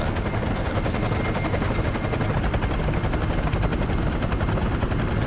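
A helicopter in the video game Metal Gear Solid 4: Guns of the Patriots, its rotor beating in a fast, dense, continuous thrum under a high turbine whine, loud and close for the whole stretch.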